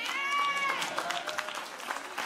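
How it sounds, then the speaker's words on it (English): A church congregation claps in a quick, steady patter of hands, partly under voices. "Your clapping is not good for Jesus."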